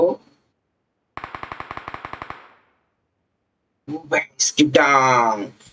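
Automatic gunfire in BGMI, a fast rhythmic burst of about a dozen shots fired while the trigger is held, close and loud, followed after a pause by someone speaking.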